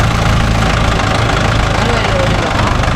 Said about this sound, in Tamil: இப்போ வரத்துக்கு வண்டி ஓடிட்டு தான் இருக்குது